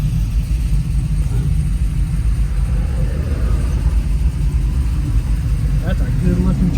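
Classic truck engine idling at a car cruise, a steady low rumble filling the whole stretch, close and fairly loud, with other vehicle noise around it.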